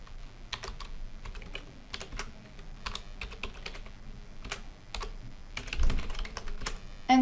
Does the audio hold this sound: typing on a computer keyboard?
yes